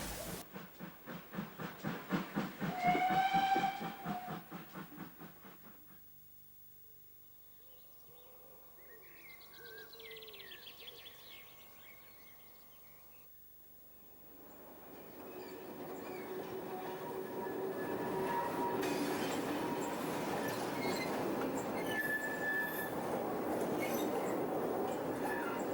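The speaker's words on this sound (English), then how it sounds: "A North British Type 2 diesel arrives at Draycott with one of the last strawberry specials" A North British Type 2 diesel train rumbles into Draycott station and rolls past steadily, with birds calling faintly and the engine noise swelling toward the end.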